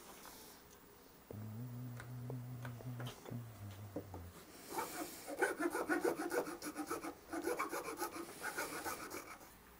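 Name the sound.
Iwasaki file rasping wood on a guitar neck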